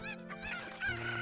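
Chickens clucking in the video game Zelda Ocarina of Time 3D, a short burst of close, busy fowl calls with several overlapping clucks and no speech.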